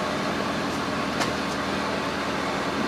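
A 6.7L diesel engine idles steadily at close range, with a continuous broadband hum and a couple of brief faint ticks over about three seconds.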